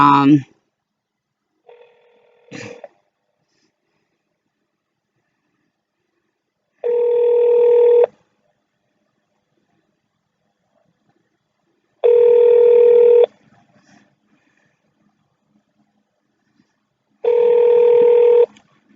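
A telephone dials a number, then rings back in three long, loud, evenly spaced tones, with a few short button beeps near the start.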